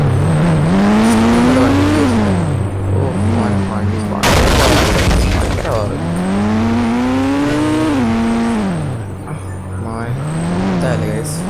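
A rear-wheel-drive car moves out of a garage with its engine revving up and down in repeated loud sweeps close by, and a sharp burst of noise breaks in partway through.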